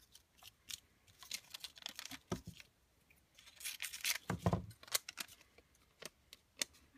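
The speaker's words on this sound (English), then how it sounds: "I'm just going to remove this top white piece with my scissors" Scissors snipping away a white strip of paper while making a Valentine's pocket letter, a quiet run of short, crisp cuts and crinkles at close range with no talking.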